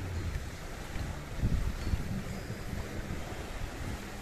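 Sea waves and wind on open water during net fishing from a boat, a steady rushing roar with buffeting wind noise on the microphone and no talk.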